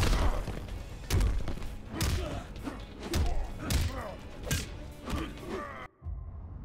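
Jax lands a power bomb in Mortal Kombat X on PS4, a series of heavy game thuds and impacts over music, loud and dense, then cutting off abruptly near the end.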